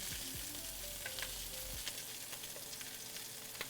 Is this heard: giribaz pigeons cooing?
no